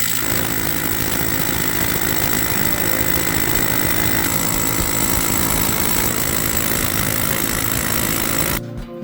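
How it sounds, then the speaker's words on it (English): A Milwaukee MX Fuel core drill runs loudly and steadily without a break while boring mounting holes for a stand, then cuts off abruptly near the end. "So I gotta drill some holes to mount the stands."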